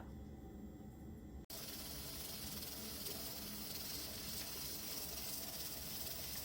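Pressure cooker weight hissing with steam while cooking glutinous rice red bean porridge, a steady breathy hiss that starts abruptly after a brief cut and then holds constant and close.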